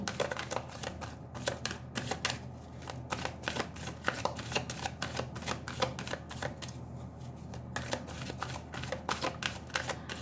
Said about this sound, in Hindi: दूसरा डेक से मैं शफल कर लेती हूँ, द ओरेकल कार्ड डेक